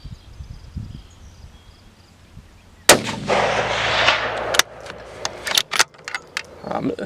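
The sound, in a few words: Ruger Precision rifle shots at long-range steel target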